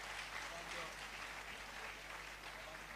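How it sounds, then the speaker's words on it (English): Audience at a pharmacy graduates' induction ceremony applauds in a soft, distant, continuous wash of clapping, with voices mingled in the large hall. "a big round of applause."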